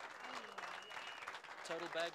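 Crowd applauding two professional anglers at a bass fishing competition's live weigh-in, steady clapping and cheering heard under a loud announcer's voice and tonal sounds over a PA.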